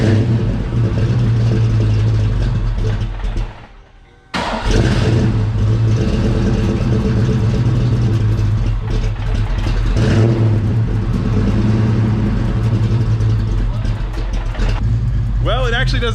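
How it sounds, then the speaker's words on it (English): A 331 engine in a Foxbody convertible runs after a cold start, its deep, uneven rumble surging and dropping briefly before settling back into a rough, loud idle, with some talk nearby. "Let's go ahead and get the last, I guess, cold start on the 331 and Tar Heel Fox."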